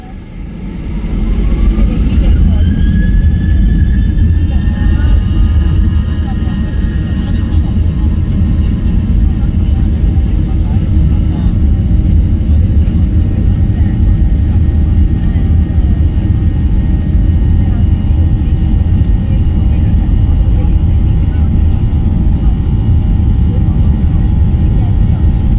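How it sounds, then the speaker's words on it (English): SpiceJet airliner accelerating down runway 28 at Delhi Airport, a loud steady engine roar with deep rumble and rising whine filling the cabin throughout, heard from inside. "enjoy the takeoff roll on runway 28 at Delhi Airport"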